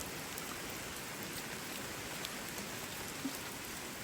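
Heavy rain pours down beside a forest stream, a steady, dense hiss of drops hitting the surface that stays even throughout, with no voices.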